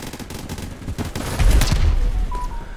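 Gunfire in the video game Phantom Forces, a run of loud, dense shots building into a heavy burst of sustained fire, with no talk over it.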